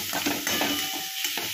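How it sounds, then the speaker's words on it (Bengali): Cabbage fries in a pan with a close, dry sizzle. It is broken by quick scraping stirs of a spatula over a short stretch, with no talk. "বাঁধাকপিটা দেখতেই পাচ্ছ ভালো করে ভাজা হয়ে গেছে"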